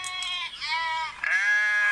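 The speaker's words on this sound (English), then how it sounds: "You hear my goats?" Goats bleat close by in a few drawn-out, wavering calls, loud and clear with no talking over them.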